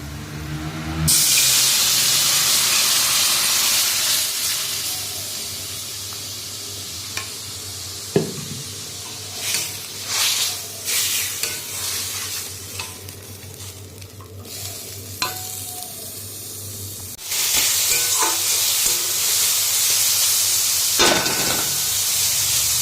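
Food frying in a pan in a home kitchen, a loud, steady hiss and sizzle with bursts of stirring and scraping, brief pauses, then the sizzle surging back, close and without talk.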